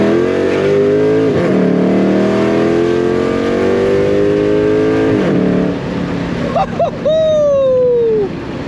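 A cammed Dodge SRT8 V8 accelerates hard, its loud engine note rising through the gears with clear shift drops, then a final revving sweep and tire or wind noise as it passes close by.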